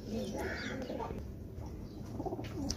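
Home-bred pigeons and their small chicks cooing softly inside a cage, low steady murmuring coos close by with a few faint higher chirps over a continuous low background.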